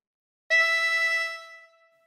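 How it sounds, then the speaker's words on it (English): One harmonica blow note on hole 5 rings out clearly and alone, sustaining briefly before tapering into a soft decay. "Blow into 5."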